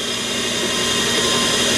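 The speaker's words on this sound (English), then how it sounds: "Now I'm at the drill press and I'm going to drill the hole for the main bearing" A drill press boring an undersize pilot hole for the main bearing of a small horizontal steam engine, the workpiece held in a vise against a fixture, gives a steady, loud, even whine and hum that runs unbroken throughout.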